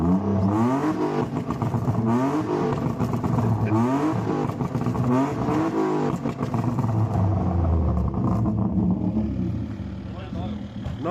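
A car engine fitted with a new exhaust muffler revs loudly and repeatedly at a winter drift gathering, rising and falling in throaty surges before easing off toward the end, with people talking throughout.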